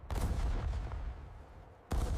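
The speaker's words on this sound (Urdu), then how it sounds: "گولہ باری شدید تھی" Heavy cannon fire from 18th-century field artillery at the Battle of Buxar, 1764: a thunderous, long-ringing booming blast followed near the end by a second loud explosive report, with no voices.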